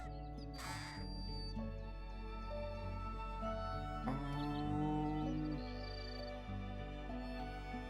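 Crow caws from the Wingspan board game sound against soft background music, a couple of harsh calls early on, fairly faint beneath the tonal accompaniment.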